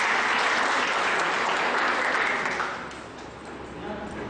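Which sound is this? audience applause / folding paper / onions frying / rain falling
audience applause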